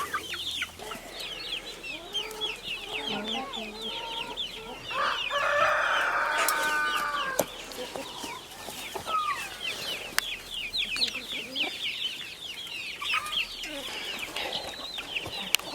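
Hens cluck and chatter continuously at close range on a permaculture homestead, with a rooster crowing partway through and other birds calling in the background.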